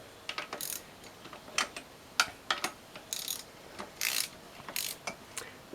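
A socket ratchet turns the head studs on a Honda hatchback engine, making bursts of quick, close metallic clicks with short pauses between strokes.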